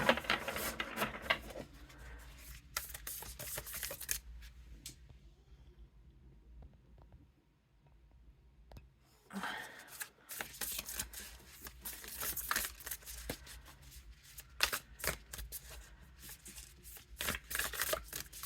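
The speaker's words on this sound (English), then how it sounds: "it'd shuffle fine that way as well" Oracle cards riffle and slap together in repeated quick bursts, with a short quieter pause midway before the crisp shuffling resumes nearby.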